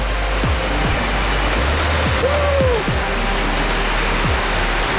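A hidden waterfall near Ranjanpada village in Alibag rushes as a loud, constant roar of falling water close by, with a low rumble beneath and a brief faint voice partway through.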